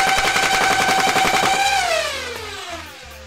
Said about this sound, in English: let's rev and fire it again